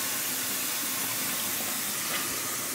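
Water splashing and running during a baby girl's bath, a steady close wash of trickling and sloshing with no talk over it.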